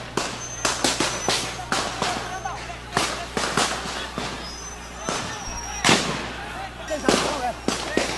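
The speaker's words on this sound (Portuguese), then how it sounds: "As pessoas estão se jogando aqui no chão para se protegerem de disparos." Gunshots: sharp cracking bangs go off repeatedly in irregular bursts during a prison riot, some close and loud, mixed with crowd noise and shouting voices as people throw themselves to the ground.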